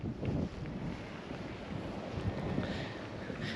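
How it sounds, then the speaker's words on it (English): Gusty wind buffets outdoors beside a house in Las Vegas, a rough, rumbling rush hitting the microphone in uneven surges with no speech. "It is a little bit windy today."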